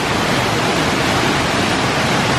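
The roar of Kuang Si Falls, a multi-level waterfall near Luang Prabang in Laos, comes as a loud, constant broadband rush, close and unvarying.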